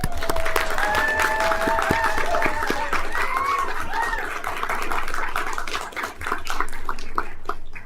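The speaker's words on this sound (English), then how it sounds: "Y'all can clap." Audience at a city council meeting clapping for a newly sworn associate judge, steady applause with a few louder individual claps, and faint voices and whistle-like tones mixed in.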